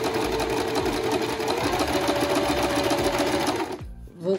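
A domestic sewing machine runs a zigzag stitch over elastic, giving a fast, steady mechanical rattle for nearly four seconds before stopping, followed by a brief faint handling sound.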